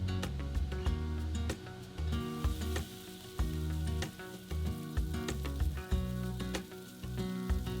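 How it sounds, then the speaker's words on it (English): Boiled homemade Chinese dumplings fry in a hot pan of oil, giving a continuous sizzle broken by frequent sharp crackles and pops in an uneven rhythm, close up and with no talking. "strain and place it into a hot pan with oil"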